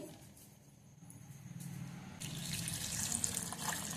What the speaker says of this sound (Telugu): ఇవన్నీ రెండు మూడు సార్లు మన్ను పోయేటట్లు బాగా కడగాలి